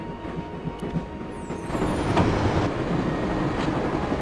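A moving train in the Broken Sword: Shadow of the Templars computer game, a steady broadband rumble that swells slightly louder partway through and rolls on continuously with no voices.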